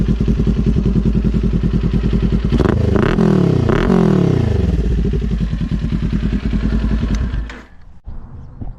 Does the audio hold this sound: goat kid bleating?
no